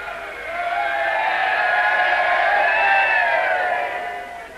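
A crowd cheering along a procession route, a broad, steady roar of many distant voices swelling and holding for several seconds, with no single speaker standing out.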